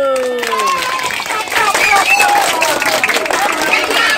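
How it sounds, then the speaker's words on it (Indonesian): A room of schoolchildren claps for a visiting TV presenter in class, scattered applause mixed with loud children's voices shouting and chattering over it. "Tepuk tangan dulu."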